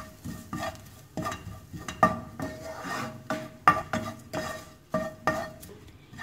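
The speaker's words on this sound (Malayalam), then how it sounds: "ഇതെല്ലാം കൂടി നന്നായിട്ടൊന്ന് മിക്സ് ചെയ്യാം" A spoon stirs and mixes ground spices with crushed dried red chili in a pan, making repeated scraping strokes against the metal in an uneven rhythm, close and clear with faint sizzling underneath.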